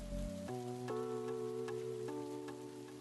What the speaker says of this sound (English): Oh, the rain's letting up.